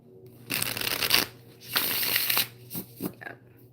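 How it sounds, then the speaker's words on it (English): A tarot deck is riffled and shuffled in several quick papery bursts, then a card is slid out, close and fairly quiet against a faint steady hum. "and now I'm going to pull a card."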